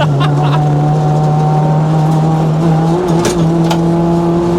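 A cammed SR20-engined Nissan Almera GTi is driven hard uphill on country roads, heard from inside the cabin. The engine drones loud and steady, with a brief pitch change as revs shift midway.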